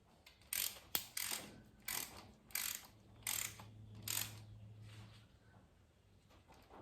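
Ratcheting clicks come in six short, regular bursts as bolts are tightened on a gasket and intake manifold of a Ford 3000 engine in a workshop, close and fairly crisp, followed by quieter handling noise.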